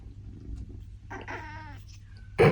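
A sand cat gives a drawn-out caterwauling yowl in a room, followed by a short, loud, sharp cry at close range.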